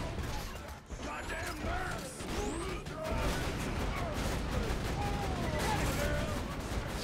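Borderlands 2 turret fire, a dense continuous rattle of shots and mechanical clatter from a game, with a voice talking over it.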